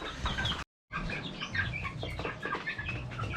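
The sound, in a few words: one-month-old chicks cheeping while being fed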